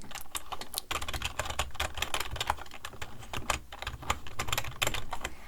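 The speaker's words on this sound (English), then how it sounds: "Okay, I'm gonna start with this nice pink keyboard." Rapid clicking keystrokes on a computer keyboard, close and steady, with a brief pause near the start and no voices.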